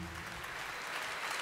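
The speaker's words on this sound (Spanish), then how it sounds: "Señores, yo quiero que le den un aplauso a Damaris" At a live concert, the crowd applauds for Damaris with a soft, diffuse wash of clapping that sounds distant and steady throughout, with a faint trace of voice at the start.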